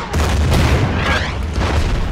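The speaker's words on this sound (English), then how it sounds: "Oh, I was so hoping to get a double artillery strike." A heavy, booming artillery strike rumbles loud and close in the naval-and-land war game Order of Battle Pacific, a dense low roar with no talk over it.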